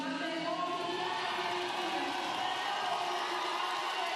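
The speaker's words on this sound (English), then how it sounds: "And to hear the crowd cheering" Crowd at the short track skating European Championships in Gdansk cheering, a steady distant roar of many voices filling the arena, sustained and even throughout.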